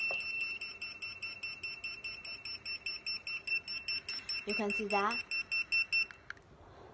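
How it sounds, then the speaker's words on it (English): Retekess T112 restaurant pager called to number 9, giving a fast series of regular loud electronic beeps for about six seconds, with someone speaking briefly over the middle of the beeping. "I will call the pagers. Press number 9 and press the key call."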